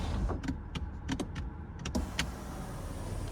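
The sunroof of a 2023 BMW X6 xDrive40i M Sport closes on a one-touch switch: a few sharp clicks, then a smooth, steady electric motor whir close inside the cabin.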